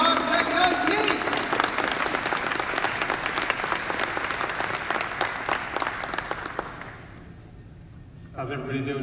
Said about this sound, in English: So let's give him a giant round of applause.